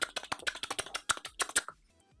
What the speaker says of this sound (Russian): Я думал, о боже, как это приятно звучит, о боже, механическая клавиатура.